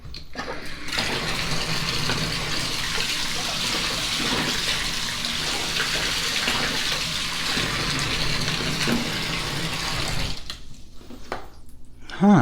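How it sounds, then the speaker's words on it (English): Tap water running over a Nokia 2760 flip phone held beneath a faucet, a steady, close splashing rush that continues for about ten seconds before cutting off, leaving brief quiet handling noises. "Let me put it under running water."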